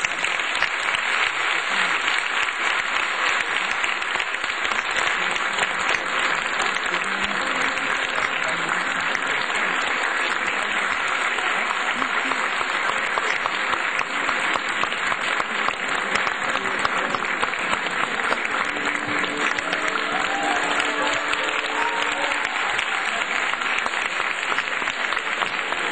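Sustained audience applause for a Koç University Turkish classical music choir taking the stage at a concert, a steady dense wash of clapping throughout with no talk over it.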